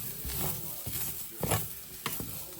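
Mushrooms for beef stew cook in a pot with a soft sizzle, broken by several scraping stirs and small knocks that come in uneven bursts, close and moderately quiet.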